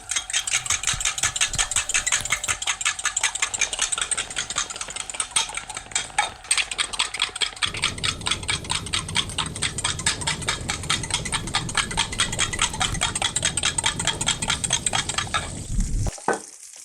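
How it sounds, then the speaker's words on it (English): Eggs being beaten in a bowl, a rapid regular clatter of utensil strokes running steadily throughout, close and fairly loud, with a hum in the background and a sharp cutoff at the end. "excuse me while I beat my eggs"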